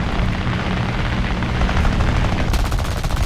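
Rapid machine gun fire from a biplane in the War Thunder air arcade game, a dense continuous rattle with engine drone that grows sharper and more distinct toward the end.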